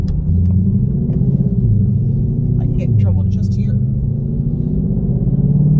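A 2020 Shelby GT500 engine idles and burbles with a deep, steady rumble close by, with a voice speaking briefly over it.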